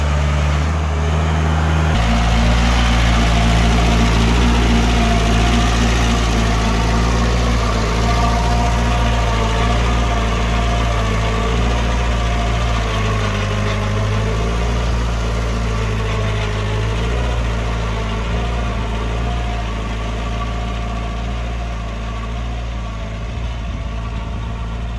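A VST Shakti 927 tractor engine runs steadily at idle, a heavy, continuous low diesel drone with a slight shift in tone early on, close and loud with no talking.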